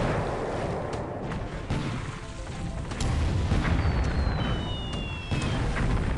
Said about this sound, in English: Oof, those coastal guns, they're rough.